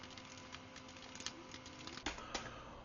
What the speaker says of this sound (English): click in the input box, and type in a title for this project